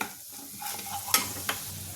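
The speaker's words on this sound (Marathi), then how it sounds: "हे छान हलवून घ्यायचे।" A spoon stirs spice masala through whole masoor dal in a pot, giving a soft sizzle and two sharp scraping knocks against the vessel.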